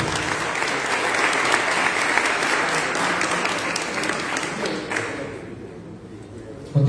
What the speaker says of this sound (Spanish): Un aplauso para Juliana Torres.